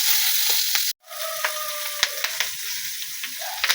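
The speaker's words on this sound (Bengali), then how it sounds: "এখন হচ্ছে বাটা মাছ ভাজা" Bata fish frying in a hot pan sizzles steadily and close by, with a brief cut near the start and small clicks and pops as the fish is turned.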